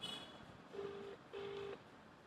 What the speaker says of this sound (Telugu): ఇప్పుడు రింగ్ అయింది.